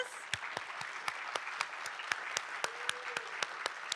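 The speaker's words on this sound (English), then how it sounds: "let's give all of our inductees a final round of applause" Sparse, steady clapping from a small audience at an honor society induction ceremony, with individual claps standing out at an even pace.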